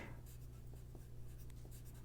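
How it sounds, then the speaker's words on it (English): Very faint rubbing and scratching of a pencil eraser on paper, a few quick soft strokes under a low steady hum. "I got this fancy eraser on this fancy pencil here. Might as well use it."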